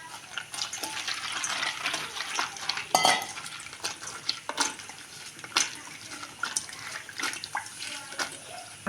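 Dry fish tamarind stew (pulusu) bubbles in a pot while a spoon stirs it, making irregular scraping clinks against the metal and soft wet bubbling, fairly close and moderately loud, with no voices.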